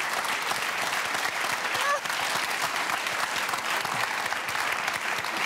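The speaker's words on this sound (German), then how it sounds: "ich weiß nicht, wer mehr Applaus verdient" Studio audience applause on a German TV talk show, Kölner Treff, forms a thick, continuous roar of clapping at a steady high level, with voices faintly mixed in underneath.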